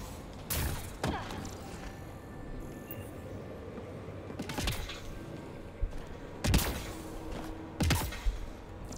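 Gunfire in the sci-fi shooter Mass Effect Andromeda: scattered sharp, loud shots at irregular intervals, some in quick pairs, over a faint hum of game ambience.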